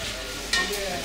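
Food sizzles and frying is stirred in a small restaurant kitchen in Mugling Bazar, Nepal, with a steady hiss and a brief clatter near the middle.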